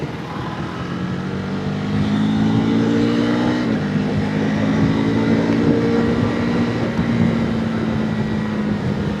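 A car following close behind a KTM Adventure 390 S motorcycle on the road, its engine drone blending with the bike's steady hum and wind rush, holding a constant pitch that briefly dips and rises, loud and continuous with no talk.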